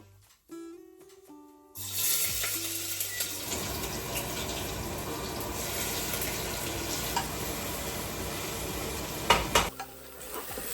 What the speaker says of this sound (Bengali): তেল গরম হয়ে গেছে এবারে শুকনো লঙ্কা আর একটু গোটা জিরে ফোড়ন দিয়ে দেবো এবারে পেঁয়াজটা দিয়ে দেবো